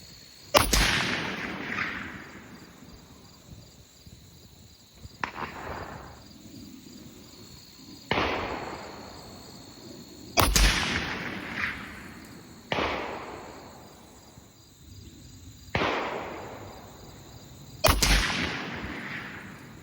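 Seven loud rifle shots from a Hi-Lux M40 firing M118LR ammunition at a 300-yard target, spaced a few seconds apart, each a sharp crack with a fading echo, insects chirping faintly in between.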